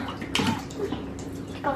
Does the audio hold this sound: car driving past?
no